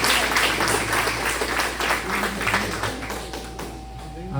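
Church congregation applauding at a Baptist Sunday service, a short burst of dense clapping that tapers off, with faint voices and a low sustained tone underneath.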